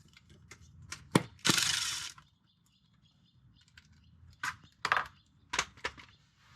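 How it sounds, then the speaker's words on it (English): A ratchet clicks in quick bursts while the last bolt is backed out of a Nissan Frontier automatic transmission pan, with a short metallic rasp and scattered sharp ticks in a quiet garage. "So I'm going to take this last bolt out, and we'll be able to pull the pan down."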